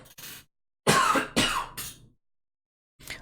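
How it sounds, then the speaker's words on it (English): A man coughs in short bursts: a brief cough, then after a pause two harsher, louder coughs close together, and a final small cough after a short silence, all close to the microphone. "I got a cough"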